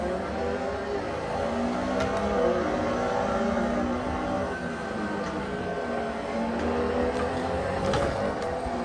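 Porsche 911 race car engine in a racing simulator game, a continuous loud drone that holds and shifts pitch as it revs through gears, with faint clicks over it.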